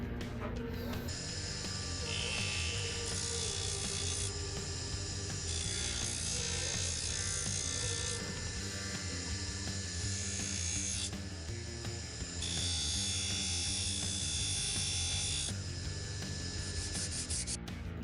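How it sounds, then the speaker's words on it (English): A steady, high-pitched whirring grind of a spinning fiber polishing wheel against a utility knife blade removing scratches runs continuously, with shifting pitch as pressure changes. "Now we're going to use the fiber wheel to kind of clean off some of the heavy scratch"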